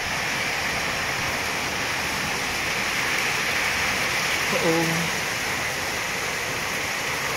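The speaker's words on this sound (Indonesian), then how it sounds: "Ini hujan deras banget" Dense, steady hiss of heavy rain pouring down, loud and unbroken throughout, with a faint brief voice midway.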